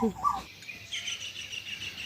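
A few bright bird chirps at the start, then a steady high insect-like trill continues faintly in a quiet outdoor setting.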